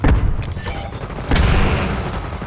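A frag grenade blast in the Call of Duty video game, a heavy boom that erupts and then tails off into sustained rumbling battlefield noise, followed by a second loud burst partway through.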